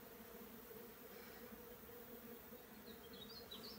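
Honeybees buzzing around an opened hive being inspected, a steady close droning hum with layered tones and occasional nearer passes, faint overall and without voices.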